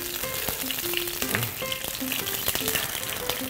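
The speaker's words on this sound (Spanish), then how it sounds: "vamos a freír el ajo bien de con nuestro aceite navarro" Garlic frying in Navarrese olive oil for a mushroom dish, giving a continuous close sizzle and bubbling hiss, with faint tonal background sounds running underneath.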